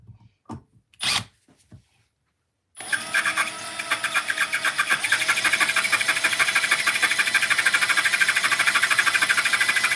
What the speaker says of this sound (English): I'm not sure how sharp these drill bits are.